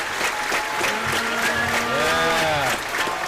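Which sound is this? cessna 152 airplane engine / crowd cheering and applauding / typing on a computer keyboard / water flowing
crowd cheering and applauding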